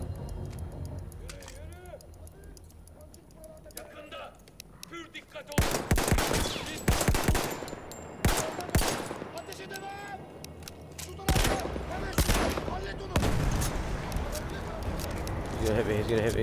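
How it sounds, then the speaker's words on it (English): Semi-automatic shotgun fired in the video game Battlefield 1, loud heavy blasts in irregular bursts with gaps between, gunfire clustering around several volleys amid game noise and a voice talking. "Oh, I got a semi-automatic shotgun."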